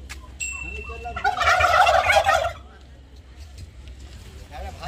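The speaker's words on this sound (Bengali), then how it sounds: "এই যে টার্কি।" Farm turkeys at a resort near Bishnupur break into a loud, rapid gobbling chorus lasting about a second and a half, fairly close, then fall quiet amid faint background voices.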